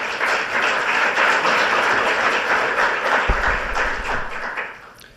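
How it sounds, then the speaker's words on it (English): Audience applause at a law school energy lecture, a sustained crowd clapping at a strong, even level that thins out and fades toward the end, with a single low thump partway through. "Let's give a round of applause to William Boyd."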